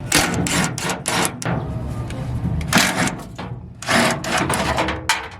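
A power tool works bolts out of a plastic block-off panel on a Chevrolet Silverado truck bed, producing loud, close bursts of rattling mechanical whirring that stop and restart several times.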